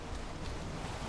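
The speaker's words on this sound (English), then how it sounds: "The waves are pushing me." Ocean waves surge in a Valheim sea crossing, a continuous broadband wash of surf and wind rushing steadily throughout.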